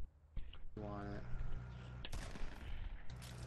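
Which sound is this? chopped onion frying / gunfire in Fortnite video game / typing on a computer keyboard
gunfire in Fortnite video game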